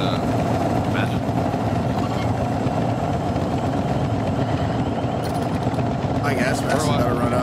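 A helicopter in the video game Modern Warfare 3 drones with a steady, loud rotor and engine rumble that never lets up, while someone talks over it.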